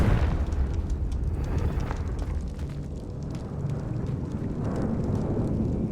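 A Confringo fire spell in Hogwarts Legacy bursts with a loud booming explosion that rumbles on for several seconds, heavy and close, set in the catacombs.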